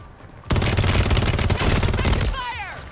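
Rapid gunfire from a video game squad fight, a dense burst of continuous shots rattling loud and close for most of the stretch, with a brief whistling sweep near the end.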